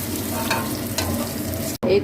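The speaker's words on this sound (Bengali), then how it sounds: "এখন তুলে নিচ্ছি, আবার ভেজে নেবো অন্য মাছগুলো" Fish frying in hot oil as pieces are lifted out of the pan: a close, steady sizzle with scraping stir sounds, broken by a brief cut near the end, with no talking.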